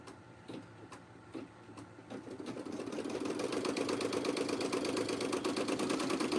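A sewing machine starts with a few slow, separate needle strokes, then speeds into a steady, fast, continuous stitching hum that grows louder and holds. It is close and heard alone.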